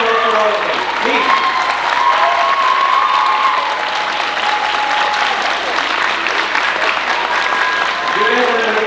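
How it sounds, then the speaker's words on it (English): Audience at a college kickline dance show cheers and claps for the dancers coming on stage, a sustained, even roar of applause with voices woven through it and a host talking over the crowd. "Big round of applause for all of them."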